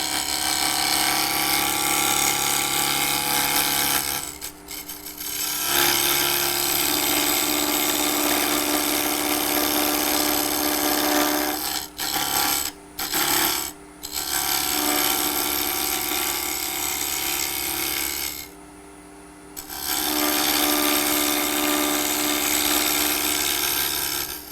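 A woodturning hollowing tool on a 1/2-inch shaft cuts into a spinning wooden ornament, giving a steady buzzing, vibrating grind that drops out briefly several times as the tool lifts off the work.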